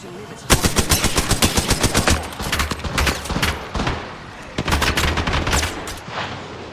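Automatic gunfire in the video game Apex Legends, rapid loud bursts of shots in quick even rhythm, several strings broken by short pauses, with a low rumble between them.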